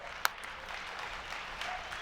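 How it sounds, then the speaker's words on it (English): Faint, distant applause from a conference audience, a soft, diffuse patter held at a low level, with one sharp click near the start. "So give Joy a huge round of applause."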